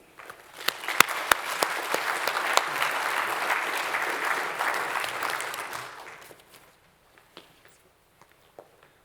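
Audience at a New Zealand food-sector address applauds to welcome the chair to the podium: dense, steady clapping builds quickly, holds for about five seconds, then thins out to a few scattered claps and fades.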